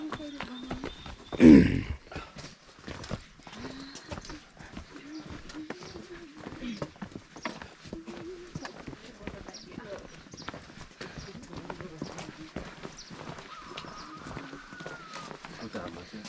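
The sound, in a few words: pack mules' hooves clip-clopping on a mountain trail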